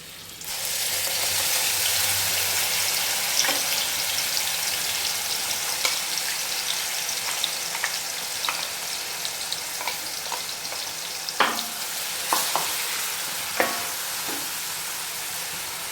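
Steady, loud sizzling of onion paste frying in oil for a fish curry gravy, with occasional light scrapes and clinks from stirring.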